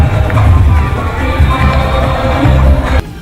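Loud crowd at a presidential election victory celebration in the street, a dense roar of voices and cheering with clapping mixed in, steady throughout before cutting off sharply near the end.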